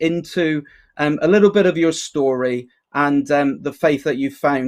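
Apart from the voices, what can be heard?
No everyday noise stands out behind the speech.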